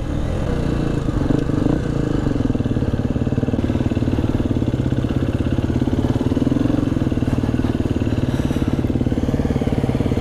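A 2020 KTM 250 EXC-F dirt bike runs continuously in wet, slippery off-road conditions, its engine a steady, close mid-pitched drone with a rapid pulsing rhythm throughout.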